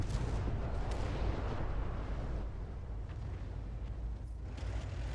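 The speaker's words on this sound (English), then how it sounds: "Hope Positive just fired a round in" A tank gun in a World War II tank video game fires a round, giving a booming, rumbling blast that decays into a low distant rumble, with no talk over it.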